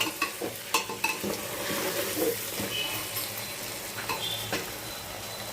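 Potatoes and squash fry in a pan with a continuous soft sizzle, broken by scattered clinks and scrapes from stirring at the start and near the end.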